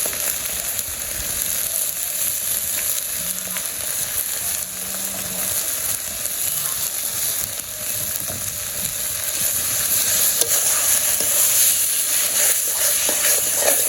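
Tomato and garlic sizzle in a hot pan, a dense steady frying hiss that runs unbroken and close, with occasional soft stirring scrapes and a brief low hum in the background.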